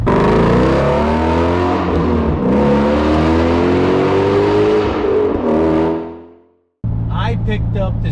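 A 2024 Ford Ranger Raptor pickup truck drives along with a steady, loud engine and road drone, the pitch rising and falling with throttle, then cutting out briefly near the end before resuming.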